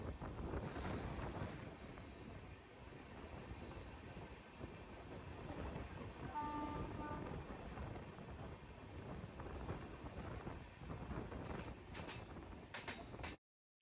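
A steady rumble of a passenger train from Tirunelveli toward Ladakh running on its tracks, heard from on board, with wind buffeting and occasional rhythmic wheel clacks.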